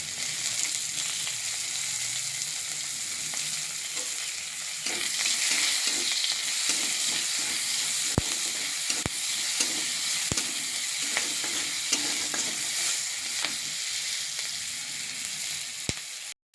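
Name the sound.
chopped onions frying in spiced oil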